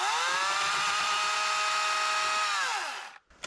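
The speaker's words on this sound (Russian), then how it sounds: "Ну пусть не бензопила, а электропила" An electric saw cuts wood in a forest, a loud steady high-pitched whine that holds for about three seconds before winding down and stopping abruptly.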